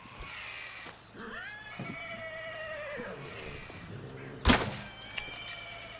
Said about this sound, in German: das Pferd beruhigen wir jetzt erstmal